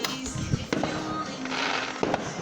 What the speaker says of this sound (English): Let's see if I can get any fireworks for you guys yet.